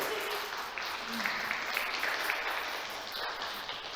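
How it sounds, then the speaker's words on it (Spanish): An audience at a church oratory session breaks into steady applause, a continuous moderately loud patter of clapping with faint voices mixed in. "creo que se merece un aplauso"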